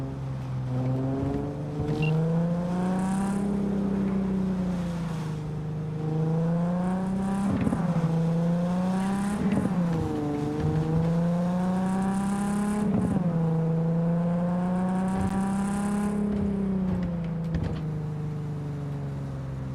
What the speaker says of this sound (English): Am I hearing the gear shift in the car